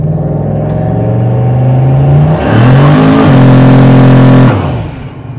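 A turbocharged Chevrolet Silverado pulls away from a dead stop, its engine loud and close as it revs up, shifts, climbs again and then eases off, with no talking.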